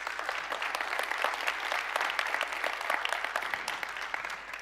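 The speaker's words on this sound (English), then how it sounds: "Please clap for yourselves." Audience applauding at a health-coverage conference keynote, a steady, dense patter of many hands clapping continuously at moderate volume throughout.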